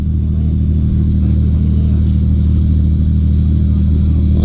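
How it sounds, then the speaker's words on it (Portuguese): A large motorboat passes on the Madeira River with a continuous, loud low engine drone that holds steady throughout, with no talk over it. "Então que tá passando o barcão ali, ó."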